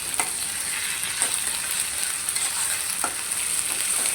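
Onions frying lightly with ginger-garlic paste make a steady, close hiss of sizzling oil, with a few soft stirring scrapes scattered through and no voices.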